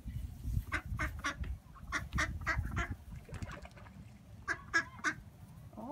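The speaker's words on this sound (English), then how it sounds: "All the duckies are going to come over here now." Ducks and geese at a lake crowd in to be fed, giving bursts of loud quacking and honking in uneven clusters, near and lively, with no one talking.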